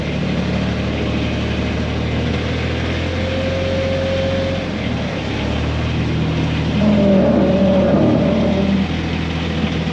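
An old car's engine idles steadily close by, a low continuous rumble with a brief tonal whine partway through and a slight rise in loudness near the end, with no voices.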